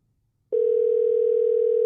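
A steady telephone dial tone starts abruptly after a half-second of silence and holds unbroken at even loudness to the end, with no voices over it.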